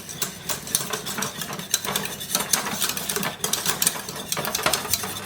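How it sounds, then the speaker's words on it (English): A whisk beats through a lumpy milk sauce in a pot, giving a steady run of rapid scraping and clinking strokes against the pan, close and continuous throughout. "A whisk will fix practically any sauce."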